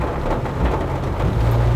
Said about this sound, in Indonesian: Ini karena kondisi lagi hujan, jadi kita harus sedikit berhati-hati